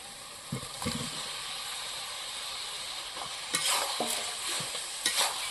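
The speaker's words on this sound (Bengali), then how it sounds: "এবার দিয়ে দেবো আমি এখানে ভেজে রাখা কাঁঠাল আর আলু" Fried jackfruit and potato being stirred into a sizzling spice paste of tomato and oil, with a steady frying hiss and a few scraping, clattering spatula strokes, closer and louder near the end.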